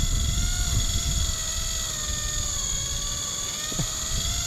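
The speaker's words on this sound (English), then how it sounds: "just like that, the drone is going away. We're flying out that bit of bait we caught before" A fishing drone flies out over the water carrying a piece of bait on a shark-fishing trip, its motors giving a steady droning whine with tonal buzzing overtones and a few faint mechanical clicks, with no speech.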